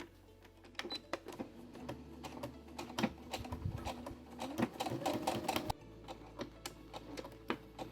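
A sewing machine stitches a bedazzled cosplay corset along a zipper, with irregular clicking and short whirring runs close by, the motor hum starting and stopping between bursts.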